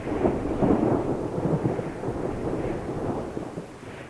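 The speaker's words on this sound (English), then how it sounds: "we were woken up to the most amazing thunderstorm." An early-morning thunderstorm on Kangaroo Island rumbles steadily with deep, rolling thunder over a continuous wash of rain, loudest at the start and easing slightly toward the end.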